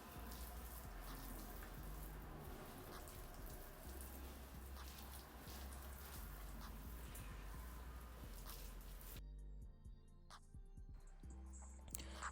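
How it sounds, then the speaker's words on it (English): Water runs steadily from a tap or shower as deep conditioner is rinsed out of hair, a continuous close splashing flow that shifts to a thinner, dripping trickle near the end. "So now I'm just rinsing the deep conditioner from my hair."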